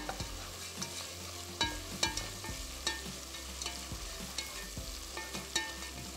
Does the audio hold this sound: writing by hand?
no